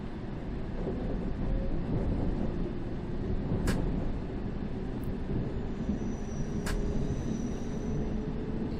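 A train in London Underground Simulator pulls away from Tower Hill toward Moorgate, giving a steady, loud rumble and hum of the moving train with a couple of brief high-pitched squeals.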